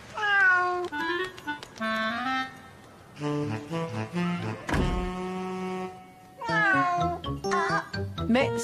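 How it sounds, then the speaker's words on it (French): A cartoon cat meows repeatedly in drawn-out, expressive calls, with pauses and a dull thunk in between, loud and alone. "c'était Charlie, le chat de Sarah"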